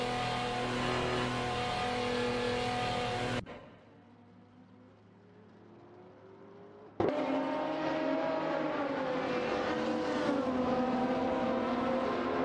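Race car engines revving in an AI racing video game: loud, buzzing engine tones climb and shift in pitch, drop to a quiet lull for a few seconds, then burst back in with a sharp jolt and keep roaring.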